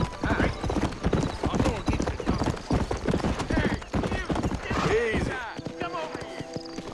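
Horse hooves clip-clop under steady talk in the Red Dead Redemption game, a rhythmic patter of footfalls mixed with a whinny and game music near the end.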